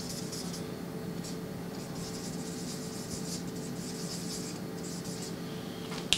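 A felt-tip marker with thin and thick tips scratching across paper, quiet intermittent squeaky strokes over a faint background hum, with no talking.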